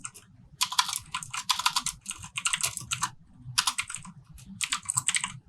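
Computer keyboard typing a signature into a Gravity Forms field on a WordPress form: bursts of quick, crisp keystrokes in several clusters with short pauses, close and fairly loud, and no talking.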